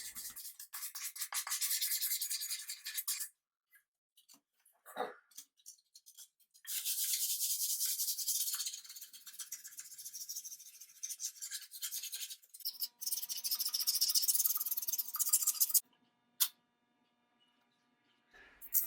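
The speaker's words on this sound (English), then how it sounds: "The first sanding is with 120 grit sandpaper. I'll sand the entire lamp" Hand sanding a Brewster lamp with 120 grit sandpaper, rapid rhythmic scratchy rubbing strokes in long bursts separated by short pauses, close and fairly loud, no talking.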